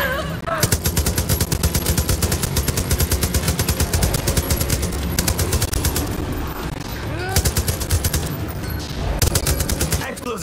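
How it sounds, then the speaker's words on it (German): Rapid, sustained automatic gunfire from a stationary machine gun in Far Cry 5's zombie mode, in dense bursts with brief pauses, loud and close, with game-like sound effects layered in. "Zombie-Action hier mit einem stationären MG."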